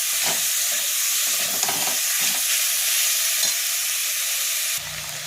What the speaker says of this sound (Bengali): গ্যাসটা কমিয়ে একটু ভালো করে কষাতে হবে এটাকে